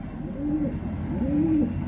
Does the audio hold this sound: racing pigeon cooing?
yes